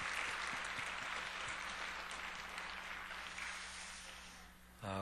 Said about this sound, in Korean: 하나님께 영광의 박수 한번 다 같이 드리겠습니다.